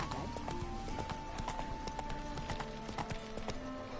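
Roach, the horse in The Witcher 3, trots with steady rhythmic clip-clop hoofbeats, close and clear, over a low in-game ambient hum.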